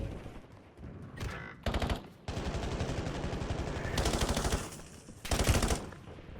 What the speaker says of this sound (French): J'ai vu des tirs.